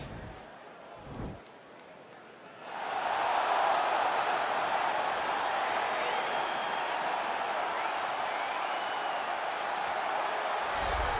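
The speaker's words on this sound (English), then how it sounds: "you hear the pop from the crowd" Arena crowd in the UFC 4 video game, a welterweight bout between Leon Edwards and Nate Diaz, swelling into a loud sustained roar and cheer after a brief quieter opening, continuing steadily to the end.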